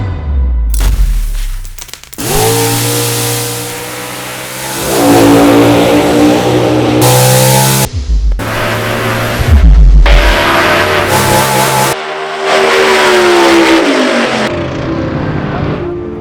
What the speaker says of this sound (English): The turbo car treed the nitrous car.